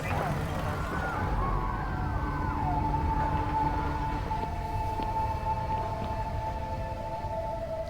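A fire engine siren wails in Life is Strange: Reunion, a gliding tone that rises and falls before settling into a steady held pitch, sounding over a rumbling background with some talk mixed in.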